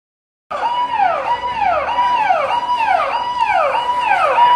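A loud wailing fire engine siren at a restaurant fire in Malviya Nagar, Delhi, rises and falls in repeated sweeping cycles, close and continuous, starting abruptly after a moment of silence.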